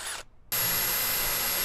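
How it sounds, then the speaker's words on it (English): Power drill boring holes into a wooden door panel, a brief whir then a loud, steady high-pitched drilling whine held without pause. "So let's drill some holes."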